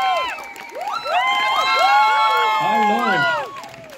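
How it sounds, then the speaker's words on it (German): Fans at the 2021 Bergretter fan hike cheer for actors Sebastian Ströbel and Luise Bähr, with rising and falling whoops and shouts from many voices over a busy crowd, loud and close, tapering at the end. "Die brauchen einen richtig starken Applaus."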